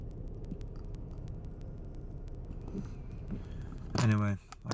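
Steady broadband road and engine rumble from a car being driven home in bad weather, continuous and fairly close, with a brief louder tonal burst near the end.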